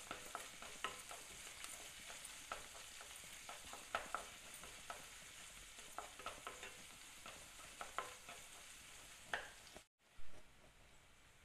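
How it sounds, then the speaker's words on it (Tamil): Onions with ginger garlic paste and curry leaves fry in a pan, a steady close sizzle punctuated by frequent scraping stirs, with a short break near the end. "சேர்த்து நல்லா ஃப்ரை பண்ணிக்கோங்க."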